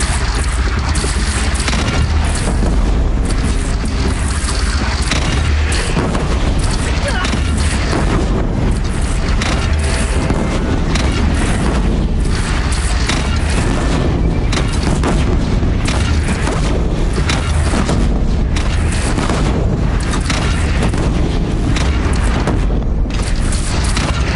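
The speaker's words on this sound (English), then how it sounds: "They only have one cannon!" Cannon fire and explosions in the video game Horizon Zero Dawn, during a battle with a bandit clan: a dense, continuous barrage of loud booms and blasts under a battle din, with no pauses for the whole stretch.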